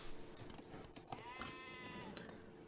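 Sheep bleat faintly in a real-time strategy video game, one wavering call rising over a busy background of game sounds with no speech.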